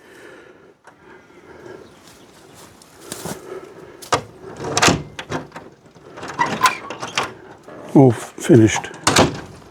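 A newly hung wooden door on a restored hothouse is shut from the inside, giving several knocks, clunks and rattles of latch and frame. Someone talks briefly before the handling starts.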